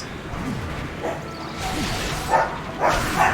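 Dogs barking in the video game World of Warcraft, a few short bursts rising toward the end of the clip over a busy game mix, fairly quiet and partly masked.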